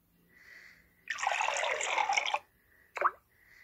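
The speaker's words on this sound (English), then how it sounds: "Oh, a glass of water." A cartoon glass of water gives a bright burbling pour of liquid lasting over a second, then a single quick plop or drip, with faint tones before and after.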